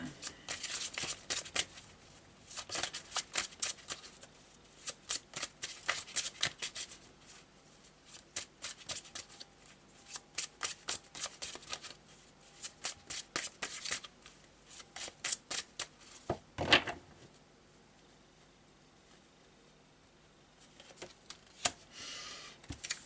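Tarot cards are shuffled for a reading in quick rhythmic bursts of riffling and slapping, fairly soft and close, with short pauses between rounds and a quieter stretch near the end.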